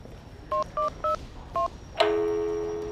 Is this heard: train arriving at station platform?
no